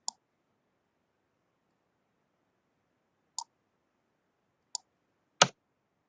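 Four crisp computer mouse clicks spaced out over several seconds against near silence, the last one louder and fuller than the rest.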